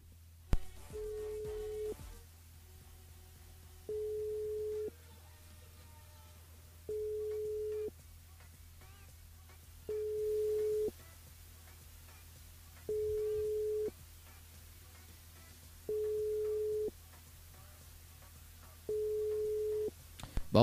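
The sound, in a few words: telephone call not answered on radio show line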